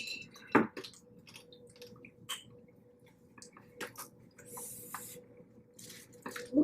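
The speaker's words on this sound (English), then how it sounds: "Ooh, let that water drain out." Water dripping and trickling out of a boiled blue crab being handled during a seafood boil meal, soft wet squishes and drips at close range in an otherwise quiet room.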